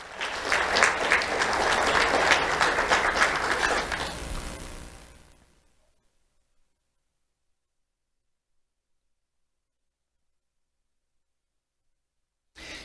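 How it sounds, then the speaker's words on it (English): An audience at a sheriff's office awards ceremony gives a round of applause that stays loud and full for about four seconds, then fades away into silence. "Let's have a round of applause for Daya Frias."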